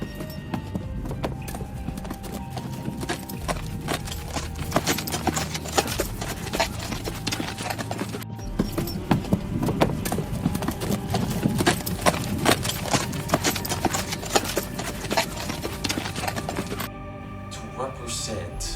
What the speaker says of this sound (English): is to be riding a black horse